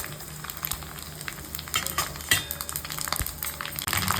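Dried red chillies tempering in hot oil in a kadai on a lit stove give a steady sizzle, with scraping stirs and a few sharp metallic clinks, close and alone.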